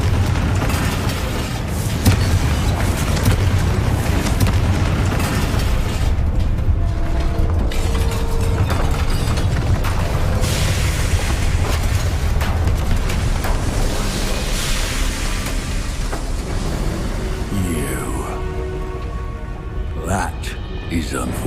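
Repeated fiery spell blasts in Hogwarts Legacy, a dense run of booming explosions lasting throughout, loud and close, with game voices mixed in under the rumble.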